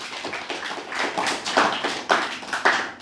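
Scattered claps from a small audience at a religious study gathering, a few uneven hand claps rising and falling over a few seconds, fairly close and moderately loud with no talk over them.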